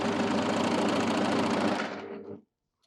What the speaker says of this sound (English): Just run it off the edge.